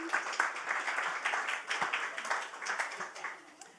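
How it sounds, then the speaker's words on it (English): Audience applause for a storyteller, Anita Maccallum, at a Talking Tales writers' gathering, a modest roomful of hands clapping in an uneven patter that swells and then fades toward the end. "Big round of applause, please, for Anita."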